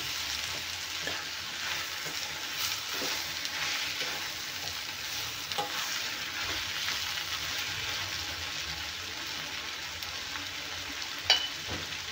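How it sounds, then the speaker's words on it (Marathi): Tomatoes cooking down to a pulp in a pan for a tomato-onion chutney, a steady continuous sizzle with occasional stirring scrapes and one sharp clink near the end. "आणि आपल्याला टोमॅटो एकदम छान शिजले पाहिजे, असे गाळ होईपर्यंत शिजून घ्यायचे आपल्याला।"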